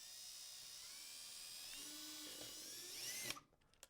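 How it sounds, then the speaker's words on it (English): A power drill fitted with a 9/64 bit bores a hole while assembling a J&J Echo recirculating portable toilet, whining steadily at high pitch before biting through and stopping abruptly with a few rattles. "you're going to take a 9/64 drill bit and drill the bottom hole"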